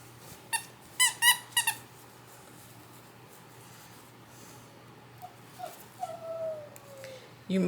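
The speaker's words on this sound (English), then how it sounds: "You might hear my dogs in the background." Dogs whimper and squeak faintly in the background of a quiet indoor room, with a cluster of short high whines early on and a longer drawn-out whine near the end.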